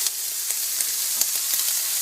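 Onions and bacon sizzle in a frying pan for a quiche filling, a steady close hiss of frying with a few faint pops and stirring clicks, no voices.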